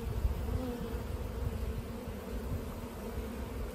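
A swarm of honey bees drones continuously inside a swarm trap, a faint, dense, even buzzing with no gaps or voices.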